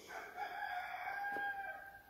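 A rooster crows once in a long drawn-out call near a farmyard sawmill where chickens roam, fairly faint and alone without talk.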